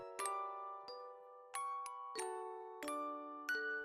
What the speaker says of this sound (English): he showed them the bell they had made on the shore